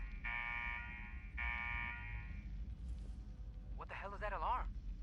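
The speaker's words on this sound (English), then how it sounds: "What the hell is that alarm?" An alarm in the video game Fallout 4 sounds twice, a steady buzzing tone repeated in two long blasts over background game noise, followed by a short burst of speech.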